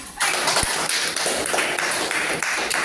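Classroom applause for a student after a presentation, a dense, steady patter of many hands clapping together at close range, running continuously with no talk over it.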